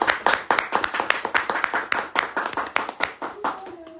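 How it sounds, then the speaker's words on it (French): A small audience at a book launch evening claps, distinct individual hand claps in a quick uneven patter, close and fairly loud, tapering off as a voice begins at the end. "Est-ce qu'on peut l'applaudir s'il vous plaît?"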